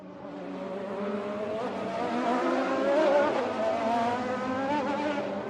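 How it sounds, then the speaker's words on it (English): Race cars drift on a racetrack with a continuous, rising and falling engine roar and tire screech, loud and sustained for several seconds without pause. "Filled with only intense drifting sounds"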